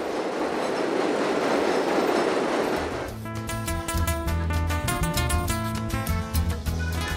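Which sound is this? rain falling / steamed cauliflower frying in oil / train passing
train passing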